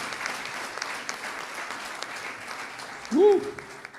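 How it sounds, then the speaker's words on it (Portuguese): Church congregation applauding during a New Year's Eve service, a steady broadband patter of many hands at moderate distance that continues throughout, with a short vocal exclamation rising near the end. "Só os vivos aplaudam o Senhor."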